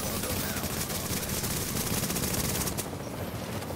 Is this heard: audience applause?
no